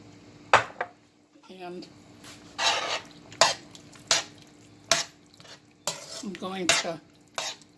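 Stuffed olives go into a pot of meat cooking for green banana pies, with sharp clinks of a utensil against the pot, scraping stir sounds and a soft sizzle, broken up by brief talk.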